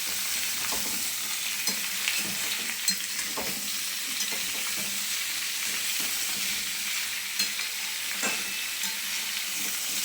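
Spinach frying in a pan for a vegetarian palong shak dish, a steady sizzle with occasional stirring scrapes and taps throughout, no voices.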